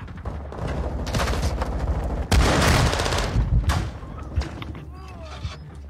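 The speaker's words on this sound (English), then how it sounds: "a shotgun and rocket launcher" Rapid video-game gunfire from a shotgun and rocket launcher, with bursts of shots and a loud blast near the middle, dense and close, mixed with ongoing chatter and game noise.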